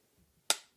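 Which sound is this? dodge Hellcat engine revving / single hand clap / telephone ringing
single hand clap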